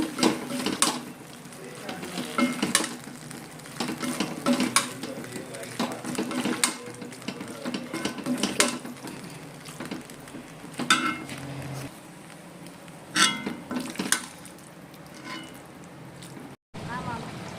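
Soya kola balls frying in a pan for a vegetarian feast, with clinks of utensils and stirring over a steady sizzle while someone talks throughout.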